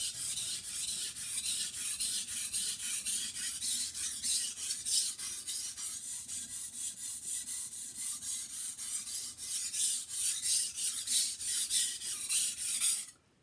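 A knife sharpened on a 400 grit whetstone, steady rhythmic rasping strokes back and forth, close and fairly quiet, continuing for about thirteen seconds before stopping, with no talking.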